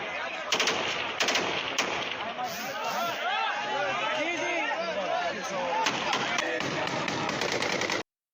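Sustained bursts of automatic gunfire crackle from a played video clip, with many overlapping voices shouting throughout.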